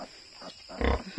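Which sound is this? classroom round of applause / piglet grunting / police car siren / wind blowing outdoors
piglet grunting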